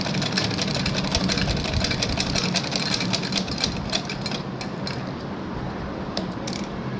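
Steady, fast mechanical rattling of a sewing machine stitching a pleated shirt cuff, close and continuous with a clicking rhythm, easing slightly toward the end.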